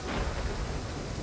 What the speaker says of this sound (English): They're attacking me in the rain and a thunderstorm.